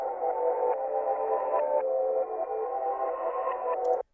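A reversed music sample plays in FL Studio without reconstruction, sustained tonal chords that swell and shift abruptly at a few points, then cut off sharply at the end.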